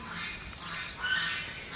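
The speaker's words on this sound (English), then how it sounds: "As you can hear my geese in the background," Geese calling from a farm behind a fence near a flower garden, a steady run of nasal honking calls at moderate distance, continuous throughout with no talk.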